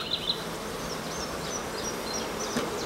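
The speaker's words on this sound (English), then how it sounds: "It's quite full of bees." Dense buzzing of many honeybees around a hive, a steady hum with individual bees zipping past close by.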